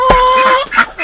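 Chickens and a rooster in a coop give a brief, loud, harmonic call up close, with a short second squawk following.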